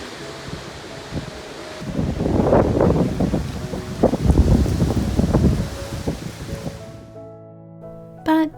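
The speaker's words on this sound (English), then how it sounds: "The afternoon brought in a windy and rainy storm." Strong gusts of wind from a windy, rainy afternoon storm buffet and roar across the microphone, rising and falling for several seconds before dropping away near the end.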